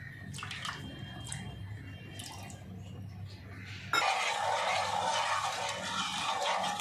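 Water splashes steadily onto sugar in a pan for syrup, a sudden broad pour starting midway and continuing loud and close after quieter kitchen clatter.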